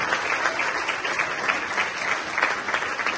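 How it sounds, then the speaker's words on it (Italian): Audience applause at the Settembrata 2023 award ceremony: dense, steady clapping from a crowd, fairly loud and continuous with no voices over it. "Quindi un grande applauso a Salvatore Vivo"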